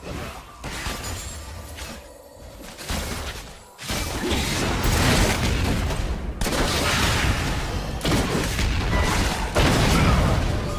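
Rapid bursts of gunfire in a shooter video game, the first few seconds sparser, then loud, dense volleys with crashing impacts running continuously, no talking.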